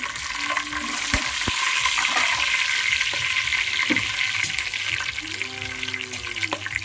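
Whole green chillies drop into a hot pan for a coconut milk paneer pulao, and a continuous frying hiss follows, broken by clinks and stirring scrapes. A faint watery rush sits underneath, with no clear talk.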